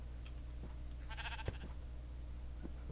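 A sheep in a video game lets out a single clear bleat midway, a short wavering cry over a steady low game hum, with faint clicks and knocks around it.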